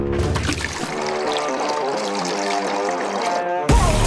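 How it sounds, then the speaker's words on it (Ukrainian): Bucket of pink paint poured over a character's head in a video game, heard as a gurgling, splashing pour of thick liquid lasting a few seconds and ending in a sharp splash. "Ось і відро з рожевою фарбою те, що треба. Вилію його прямо їй на голову."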